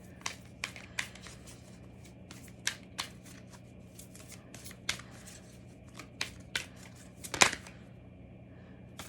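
Angel oracle cards being shuffled by hand, a quiet series of crisp riffling snaps and flicks at uneven intervals, close and alone with no talk.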